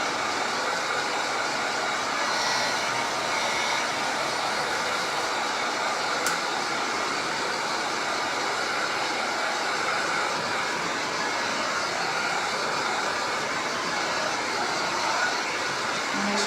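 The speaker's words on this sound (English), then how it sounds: "I'm just going to stop it with my heat gun real quick" A heat gun blows steadily for the full stretch, drying freshly stencilled Dixie Belle chalk paint on a boho-style furniture piece, a constant close airy roar like a hair dryer with no breaks or talk.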